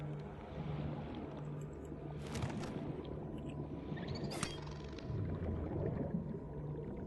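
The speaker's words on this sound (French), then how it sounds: "j'aime pas ce bruit de dauphin en fait" Dolphin calls in the underwater game Subnautica, a couple of bright chirping squeaks and clicks over a dense, rumbling ocean ambience, fairly faint and with no talking.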